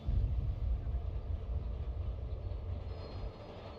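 Train in Marvel's Spider-Man Remastered, a steady rumbling roll of railcars with wheel clatter and faint squeal, fairly quiet and continuous, fading slightly toward the end.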